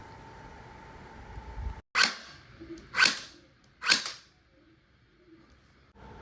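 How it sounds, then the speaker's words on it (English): A gel blaster mounted on a remote-controlled turret fires three sharp, snappy shots about a second apart, each with a short tail, against a quiet room, followed by a fainter click near the end. "While the gel blaster mounted to the turret is fairly inaccurate, you'll see that one of the shots landed just above the bullseye"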